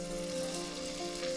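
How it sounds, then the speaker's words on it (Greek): Kourkoumpinia, small pastries made from filo dough, fry in hot oil with a steady close-up sizzle and crackle and a faint underlying hum, no voices present. "Το λάδι έχει γίνει και είμαστε έτοιμοι να τηγανίσουμε."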